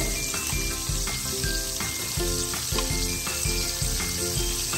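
Cumin seeds sizzle in hot oil with a dense, continuous crackling hiss. Small rhythmic pops and clinks recur throughout at close range, and no voice is heard.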